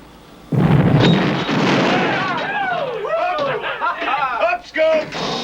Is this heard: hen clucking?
no